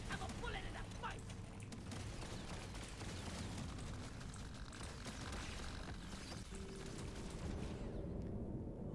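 Dense, continuous gunfire from Deep Rock Galactic: Survivor, a steady rapid stream of shots layered with game effects and explosions, fairly loud throughout with no pauses.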